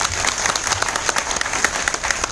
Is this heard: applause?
yes